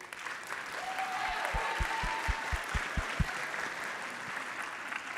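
An audience claps for Raymond at a live event, a moderate, fairly distant patter of applause with a rising whistle and a run of low rhythmic thumps mixed in.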